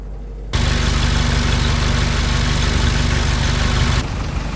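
An original Ford GPW jeep engine idles cold with no choke or hand throttle, a steady, loud, even tickover that starts abruptly and holds for about three and a half seconds before cutting back.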